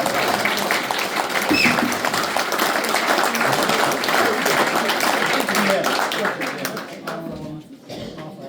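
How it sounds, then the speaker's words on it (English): Audience applause fills a jazz club as Roger Beaujolais is welcomed to the stage, a dense, steady wash of clapping with scattered voices mixed in that thins out toward the end. "huge round of applause if you'd be so kind to welcome for the very first time, ladies and gentlemen, Roger Beaujolais"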